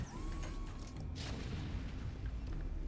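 Booming bursts and crumbling explosions as photon cannons are destroyed during a StarCraft Brood War match, a dull low rumble with one sharper blast in the middle over steady game noise.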